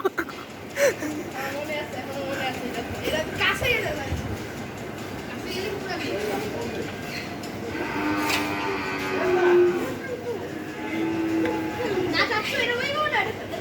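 Cattle at a livestock farm in Basila, Dhaka, before Qurbani low nearby several times, drawn-out moos rising over a steady outdoor murmur while people talk in the background.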